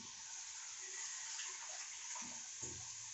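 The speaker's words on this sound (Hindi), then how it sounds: "थोड़ा सा यहाँ पे मैं पानी डालूँगी" Water is poured into a kadhai of sweet-and-sour pumpkin curry cooking in oil and spices, a faint, steady trickle and splash lasting a few seconds with no talking.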